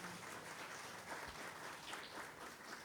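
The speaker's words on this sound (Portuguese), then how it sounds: "Vamos aplaudir ao Senhor pela nossa visitante" A church congregation applauds in a dense, even patter of clapping that holds steady from start to finish at a moderate, somewhat distant level.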